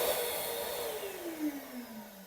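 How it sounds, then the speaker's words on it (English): A small Metabo shop vacuum serving a CNC machine enclosure whines steadily, then winds down after a remote switches it off, its pitch sliding lower as the motor coasts to a stop. "It runs off of this standard little Metabo vacuum"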